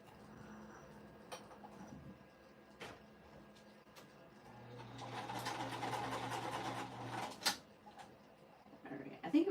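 A home sewing machine stitches quilting cotton, with scattered clicks and thumps, then a steady mid-level whirring run that stops abruptly, followed by handling noises.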